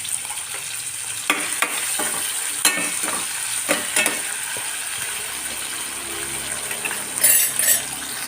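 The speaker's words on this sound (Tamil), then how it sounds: "நல்லா எண்ணெயிலே வதங்கி நல்லா மசிஞ்சிருக்கும்" Tomato and onion sauté in hot oil in a pan for potato masala, a steady hiss and sizzle punctuated by scraping stirs and clinks of the spoon, close up with no talking.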